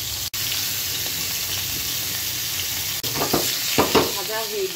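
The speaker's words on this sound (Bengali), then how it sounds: "তাই ভেজে দিচ্ছি।" Pigeon meat frying in a pan for a Pakistani-style bhuna, a steady loud sizzle with two brief cutouts, then scraping stirring sounds toward the end.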